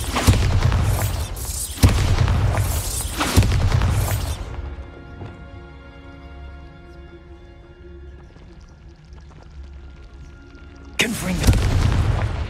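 Bombarda explosion spells from Hogwarts Legacy, three heavy booming blasts in quick succession, then a quieter ringing, humming stretch before another loud burst near the end.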